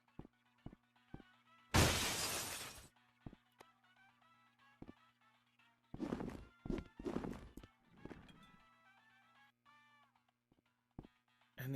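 A broad, loud burst of shattering fragile glass in The Stanley Parable VR, lasting about a second, followed by several clattering, knocking impacts over a steady low background hum.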